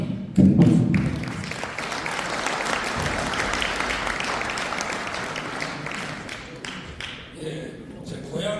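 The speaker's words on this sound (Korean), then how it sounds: "다시 한번 큰 박수 부탁드립니다." An audience at a regional hometown association lecture breaks into sustained applause, steady and full from start to finish, with a brief voice near the start.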